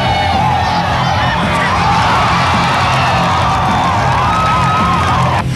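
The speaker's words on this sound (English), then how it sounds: "The crowd is on their feet." A stadium crowd roars and cheers continuously at a 1993 American football game in which a Swedish team is playing, with whoops and shouts rising above a dense, sustained wall of noise.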